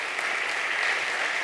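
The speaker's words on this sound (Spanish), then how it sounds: "Dale un fuerte aplauso al Rey." Steady, full applause from a church congregation clapping for God during a Spanish-language sermon, a dense continuous roar of many hands heard at close range with no pauses.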